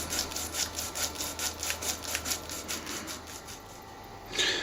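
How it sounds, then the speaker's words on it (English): A BSA Hornet airgun cylinder tube being deburred, giving a steady back-and-forth rasping scrape of about a dozen regular strokes, close and moderately loud, with no talking. "continue to remove the rest of the burring until you're quite happy that everything is well done"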